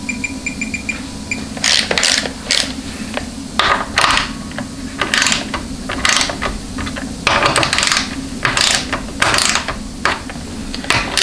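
Torque wrench ratcheting on transmission bolts during final assembly of a Chrysler Jeep A904 (A998) automatic transmission: close, crisp bursts of rapid clicking repeated in an uneven rhythm, with no talking.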